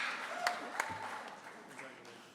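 A family cheering section applauding a graduate at a summer high school graduation ceremony, with scattered clapping and whoops in a large venue, fairly distant and soft.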